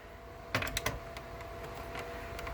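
A PlayStation 4 hard drive cover is pushed out with a click and pulled off, giving a couple of close plastic snaps followed by lighter clicks and rattles over a steady background hum.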